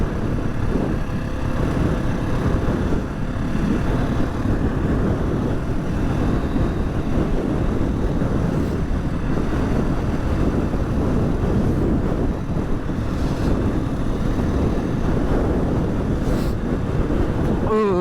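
Strong wind buffeting the microphone on an exposed hilltop during a bike ride, a loud continuous low roar with gusting rumble that never lets up, no voices heard.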